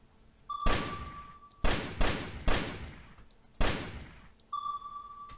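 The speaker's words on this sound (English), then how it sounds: "Okay, so I can shoot mighty fast." Five sharp gunshots in an itch.io shooter game, fired in an uneven burst, each with a ringing decay, while a steady electronic tone hums faintly underneath.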